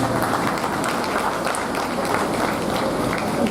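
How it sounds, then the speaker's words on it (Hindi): Steady audience applause at a Hindi comedy poetry recital, a dense, even wash of clapping held at constant loudness for a few seconds. "कृपया दिल खोल के ताली बजाएं।"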